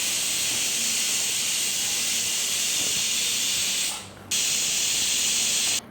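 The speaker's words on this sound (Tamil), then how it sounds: "குக்கரை மூடிக்கிறேன் மூடிட்டு நாலுலேருந்து ஒரு அஞ்சு விசில் விட்டுக்க போகிறேன்" A loud, continuous pressure cooker whistle hisses steam, briefly dropping off before resuming at full force, while drumstick leaves cook.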